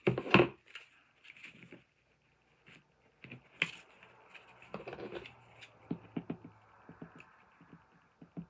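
Paper being trimmed by hand with scissors at a crafting table: a few quiet, scattered snips and rustles, with light handling taps and shuffling between cuts and pauses of near silence.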